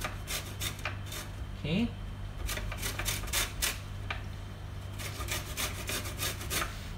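Lime zest being grated, rapid rhythmic rasping strokes close up, steady and continuous, with a brief word spoken partway through.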